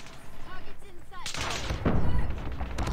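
Shotgun blasts from a BY15 loaded with slug rounds in a shooter video game: a loud burst of heavy booming fire erupts partway through and continues in dense, overlapping shots after quieter game sounds.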